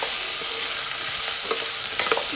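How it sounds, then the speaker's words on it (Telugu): Eggplant pieces fry in a pan with a cover, making a steady loud hiss with a few soft stir scrapes and a sharper clink near the end, close and with no speech. "ఇప్పుడు ఒక ఐదు నిమిషాలు మూత పెట్టుకొని ఫ్రై చేసుకోవాలి"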